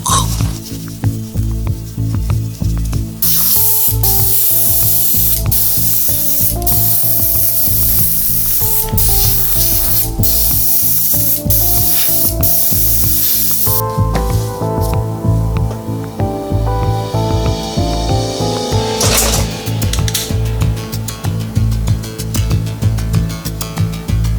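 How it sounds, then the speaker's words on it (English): Repeated bursts of gold aerosol spray paint hissing from a can onto tags, short and long sprays in a steady rhythm, over quiet background music. "We're gonna spray the tags with the gold paint to give it that old parchment look."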